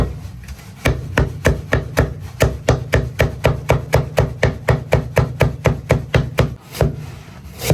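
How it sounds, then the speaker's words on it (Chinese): A kitchen knife chops scallion and ginger on a cutting board in a steady, rapid run of sharp, close knocks, about three per second, with no talking. "切点葱姜。"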